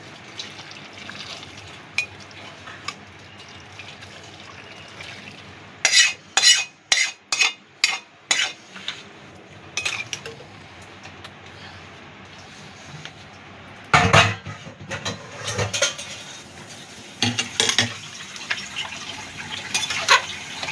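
Goat meat being stirred in a pot with hot water while cooking with ground spice paste: bursts of metal spoon scraping and clinking against the pot, with sloshing liquid between quieter stretches, no talking.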